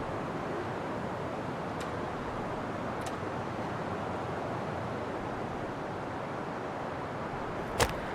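Steady wind rushes across a cold mountain landscape in the survival game The Long Dark, a constant broadband roar with a few faint ticks and a brief sharp click near the end.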